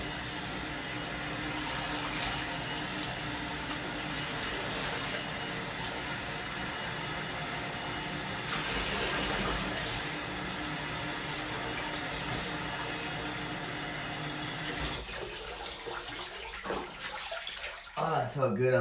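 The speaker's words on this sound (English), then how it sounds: "I like to rinse it out with fresh water." Fresh water runs steadily into a bathtub as a soft facial scrubber is rinsed, a constant close rushing and splashing that breaks into choppier, uneven sloshing near the end.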